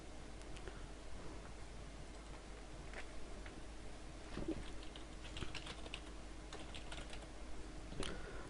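Rapid clicking keystrokes on a computer keyboard, heard close and alone over a faint steady hum, with brief pauses between bursts of typing.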